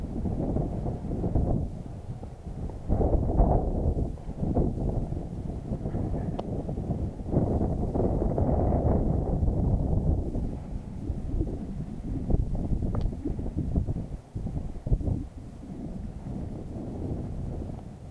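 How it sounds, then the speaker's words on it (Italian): Wind buffeting the microphone at night at a hilltop fort, a steady low roar with gusty surges and rumbling swells throughout, with no voices. "C'è vento"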